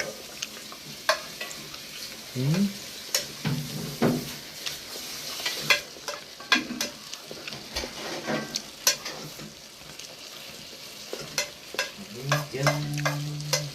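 String beans adobo sauté in a heated pan, a close sizzle punctuated by frequent utensil clicks and scraping stirs against the pan, with short bursts of livelier frying; no one speaks.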